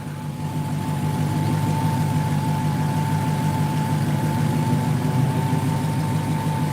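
A Dodge Hellcat muscle car engine runs with a steady, loud low rumble and a constant hum, holding an even drone throughout without distinct rev peaks.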